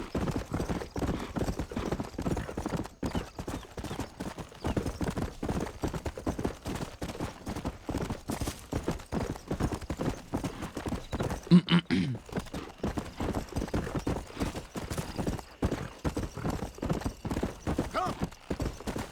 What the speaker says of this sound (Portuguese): Mano, os cavalos vão rápido.